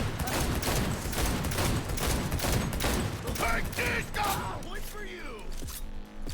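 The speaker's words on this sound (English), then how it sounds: "I get one shot in the face with this machine gun" Machine gun fire in the video game Cyberpunk 2077, dense rapid bursts loud and close for several seconds before thinning into scattered mechanical clatter, with game music and effects underneath.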